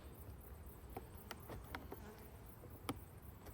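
Honey bees hum faintly around an open backyard hive, a steady low drone with a few individual insects zipping past the microphone, quiet and without any voices.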